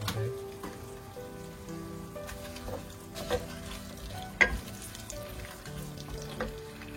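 Onions and three dried red chilies frying in oil in a pan, a steady close crackling sizzle with occasional sharp pops and utensil clinks.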